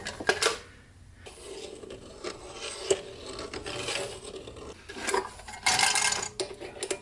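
A metal lathe chamfers the inside of an all-metal lightsaber part, giving scratchy, ratcheting cutting and mechanical rattle at moderate level with brief louder scraping bursts and no talk.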